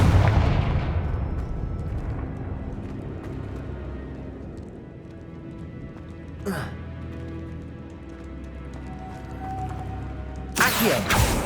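A deep, rumbling blast from the Confringo fire spell in the game Hogwarts Legacy rolls under a steady game soundscape, followed moments later by another sharp burst. A voice speaks over it.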